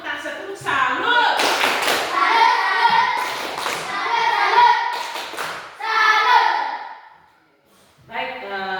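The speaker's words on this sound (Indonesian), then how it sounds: "Kita beri tepuk salut untuk Tasya." Children clap a rhythmic salute clap in a school classroom, bursts of hand claps and taps mixed with a teacher and kids talking between them.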